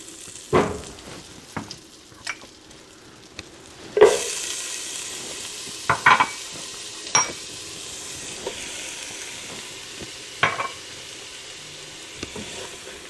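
A medium onion and two stalks of celery fry in melted butter in a pot for New England clam chowder, a steady close sizzle broken by a few sharp clinks and scrapes of a utensil against the pot.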